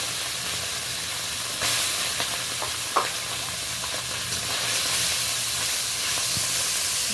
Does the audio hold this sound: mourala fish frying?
yes